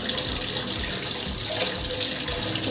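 Tap water runs steadily over washed goat liver in a kitchen sink, a continuous close gushing and splashing stream with no talk.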